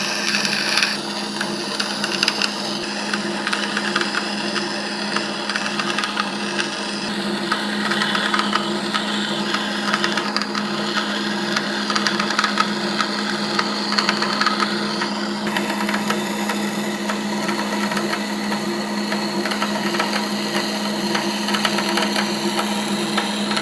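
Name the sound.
bandsaw cutting a Ferrari F430 brake pedal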